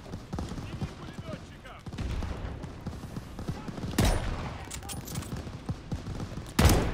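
Automatic rifle fire in Call of Duty: Vanguard rattles out in dense, repeated bursts through the whole stretch, with louder, harder volleys near the end over a busy battle backdrop.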